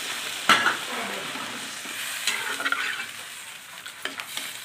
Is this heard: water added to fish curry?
yes